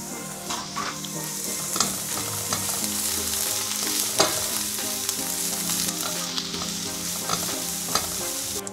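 Onion fries in a pan for a low-carb carbonara, giving a dense, steady sizzle close by with scattered crackles and pops throughout.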